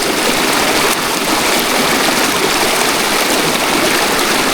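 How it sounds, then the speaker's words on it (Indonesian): Clear, cold river water flows on a mountain trail in Argopuro, making a loud, steady broadband rush that stays close and continuous without pause. "air dari sini tuh kayak sungai pada umumnya tuh, ya meskipun jernih ya"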